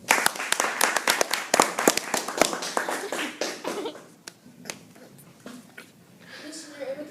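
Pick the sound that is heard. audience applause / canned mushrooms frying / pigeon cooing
audience applause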